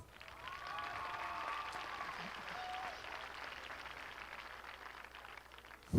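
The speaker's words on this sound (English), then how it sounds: "Please give them a round of applause." Audience applause at a high school graduation ceremony for the performing band, a steady broad wash of clapping held evenly for several seconds at moderate distance, with a faint musical tone briefly ringing beneath it.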